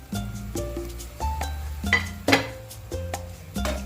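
Chayote goes into a pan for chop suey and gets stirred, with repeated metallic clinks and scrapes of a utensil against the pan in an irregular rhythm, fairly close and without talk.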